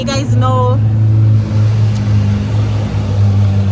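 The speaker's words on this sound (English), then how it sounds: "One of them fast car that were awful loud." A loud fast car roars past on a Fort Lauderdale waterfront street at night, its engine revving hard and holding a steady growl throughout, close and dominant with a brief voice at the start.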